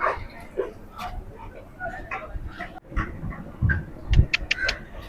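Several dogs at an obedience training session give short yips and barks in scattered bursts, some closer and louder near the end, while a handler talks over them.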